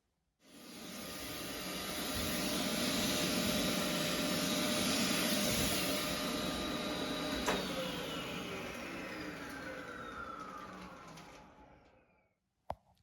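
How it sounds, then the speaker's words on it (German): Small vacuum cleaner sucking loose dried scatter material off a model railway embankment: a steady close whirring hiss that starts abruptly and runs about twelve seconds, its pitch sliding gradually lower, then cuts off with a click. "nach dem Trocknen können wir das Ganze absaugen"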